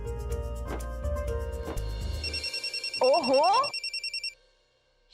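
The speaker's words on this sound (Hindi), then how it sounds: "आ गया मेरे भाई का फोन" A phone rings with an incoming call, repeated electronic ring pulses close by over dramatic music, and a person briefly speaks in Hindi.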